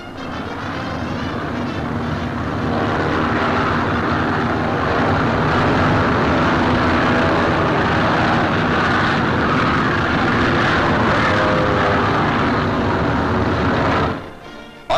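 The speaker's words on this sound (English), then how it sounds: "As the transports take off" WWII propeller transport aircraft take off for the June 1944 invasion with a loud, continuous engine roar and droning propellers that hold steady for the whole stretch, then cut off abruptly at the end.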